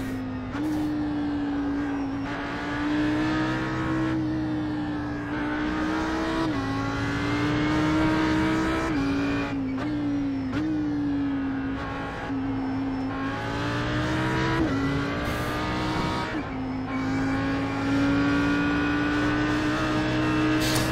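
Audi R8 GT3 race car in iRacing at the Spa circuit, its engine revving loudly and steadily through the gears with a sustained high-pitched tone that dips at each upshift and climbs again as the car accelerates.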